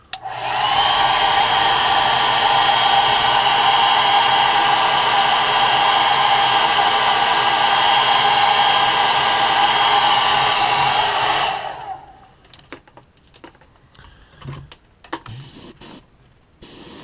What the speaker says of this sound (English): And you'll have to heat set each coat with a dryer.